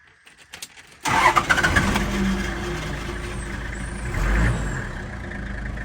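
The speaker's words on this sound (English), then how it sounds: "run the engine for a little bit so I can get some hot water" A bus engine cranks with a few quick clicks, then catches and settles into a loud, steady idling rumble, swelling briefly as it revs before holding steady.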